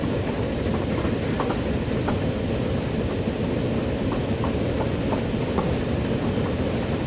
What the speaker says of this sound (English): as we head around this corner, here comes another commuter train